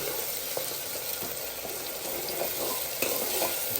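Green chillies and garlic cloves sizzle in hot oil while tempering khichdi, a steady close frying hiss with a few soft stirring clicks and no talk.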